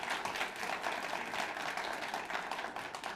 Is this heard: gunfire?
no